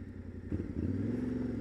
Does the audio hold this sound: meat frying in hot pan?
no